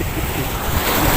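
Strong ocean waves surge and break on the shore at a fishing spot, a loud continuous roar of surf with wind buffeting the microphone throughout.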